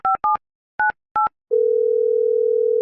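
A telephone plays four quick dialing beeps, then a steady continuous dial tone, clear and close, with no voices.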